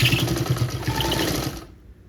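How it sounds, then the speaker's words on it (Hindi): A sewing machine runs a steady close whir while stitching along a folded shirt collar, then stops abruptly into near silence. "फिर इसके ऊपर सिलाई लगानी है"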